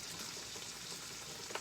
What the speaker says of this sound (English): The sizzling that you hear is my green beans cooking.